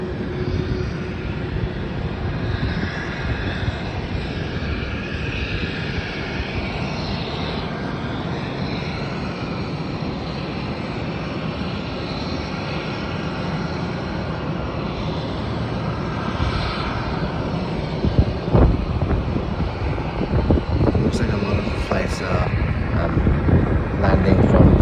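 Passenger jets, including an Airbus A320, land and take off on an airport's east-west runway, a steady loud roar of engines with wind rumble that swells toward the end, with talking over it at times.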